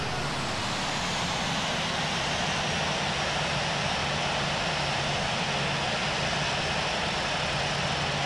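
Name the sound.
Southwest airliner engines at takeoff, Infinite Flight simulator video game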